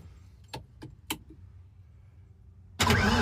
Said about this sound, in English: Little backfire, but it started right up.